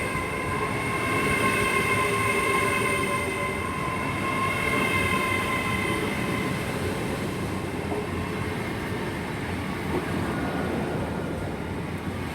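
ScotRail multiple-unit train moving through Haymarket station, a steady rolling rumble with a high whining tone from the running gear, fairly close and sustained throughout, no voices.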